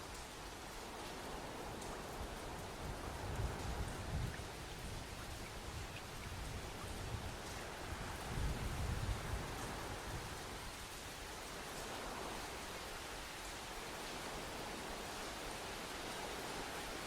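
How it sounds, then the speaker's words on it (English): Steady, faint rainfall hiss in the Xenoblade Chronicles 2 game world, an even wash of drops with a few soft low rumbles, no voices. "Rain? Because it was raining?"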